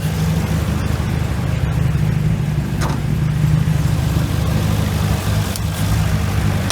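A car engine idles steadily after a repair to its hose clamps, a close, even low rumble that holds throughout with no talk.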